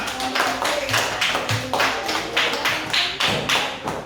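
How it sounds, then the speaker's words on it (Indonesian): Classroom of student groups clapping together, a run of sharp, fairly close hand claps with an uneven rhythm continuing throughout, no voices over it. "Tepuk tangan untuk semuanya."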